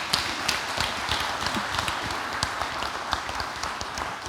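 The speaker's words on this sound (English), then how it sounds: "give our panel here a round of applause" Audience at an international pawpaw conference applauding a panel, a moderately sized crowd clapping with distinct individual claps audible through a steady patter.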